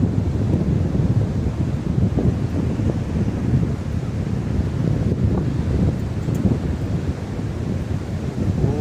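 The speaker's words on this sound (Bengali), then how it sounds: "হাওয়া বইছে সমুদ্রের ঢেউটা" Strong wind buffets the microphone in a constant low roar, with the wash of sea waves underneath at Mandarmani beach.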